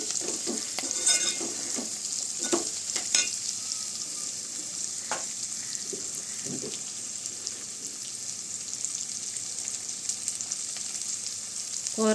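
Carrot and grated coconut fry cooking in a pan on the stove, a steady sizzle carrying through with clusters of spoon scrapes and stirring knocks near the start, then settling into continuous quiet frying.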